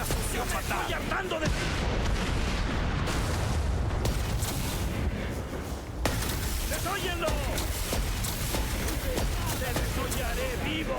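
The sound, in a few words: gunfire shooting the boss Tom in a video game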